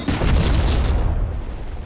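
Artillery shots fired on a range, a loud, dense boom with heavy low rumble that holds and slowly decays over about two seconds, with no voices.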